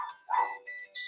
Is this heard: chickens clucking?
no